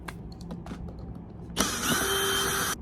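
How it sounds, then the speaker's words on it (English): A power driver backs out a screw on a Honda 2200 generator's panel: after a few faint clicks and handling taps, a loud, steady whirring burst runs for about a second close up, then stops. "Take these screws up. There's 4 screws on this panel."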